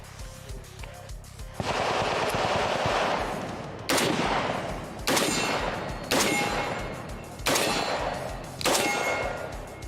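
A 7.62x39 rifle resembling an AR but fed from AK magazines fires about six loud, sharp shots at uneven intervals, each followed by a long ringing decay.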